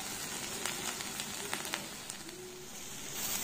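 Potato pieces sauté uncovered in a pan over a low gas flame, a soft, quiet sizzle dotted with small crackles and pops, with no talk.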